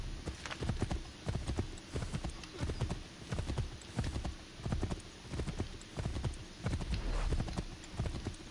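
Hooves of a galloping horse in the video game Assassin's Creed 3 pound in a fast, steady clip-clop rhythm, close and loud throughout.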